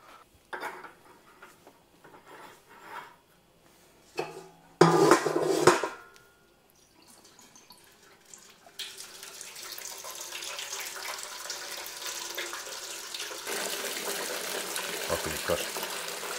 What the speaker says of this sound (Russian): а это сейчас сливаем в ведерко